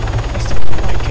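Helicopter in the Arma 3 video game, a loud close rotor throb with rapid rhythmic chopping and a brief swell in the middle.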